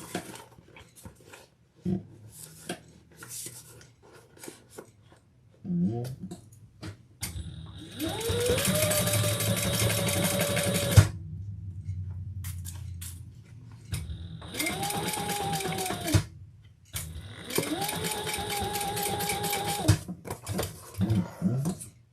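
A domestic sewing machine stitches a handbag in several bursts of steady whirring and rapid needle clatter, rising and holding pitch, with pauses and small handling knocks between, close and clear, until the bobbin thread runs out.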